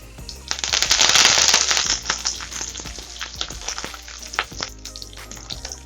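Garlic, curry leaves and coriander hit hot oil for a spicy tomato chutney, bursting into a loud crackling sizzle that peaks early, then settles into sharp intermittent pops and spits close by.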